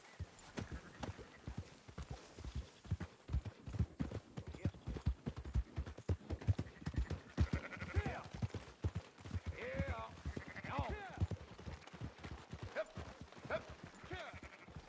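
Sheep in the video game Red Dead Redemption 2 bleat among steady hoof clip-clops and livestock movement, with characters talking over the scene.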